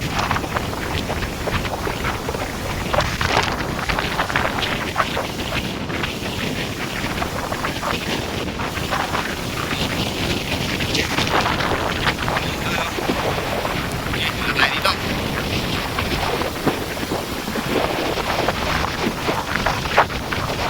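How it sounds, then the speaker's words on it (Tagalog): Strong sustained wind from Super Typhoon Uwan roars by the sea at Calayo, Nasugbu, Batangas, buffeting the microphone steadily with gusty rushes throughout. "Lakas pa ng hangin."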